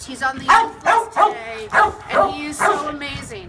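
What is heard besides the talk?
dog barking in neighbouring kennel pen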